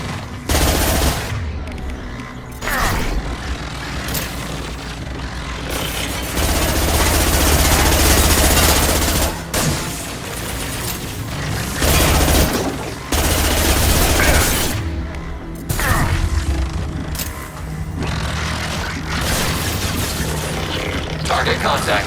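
Rapid bursts of automatic weapon fire from the Mass Effect 2 Legendary Edition game, loud and sustained, interrupted by short pauses and booming impacts, with brief game voices in between.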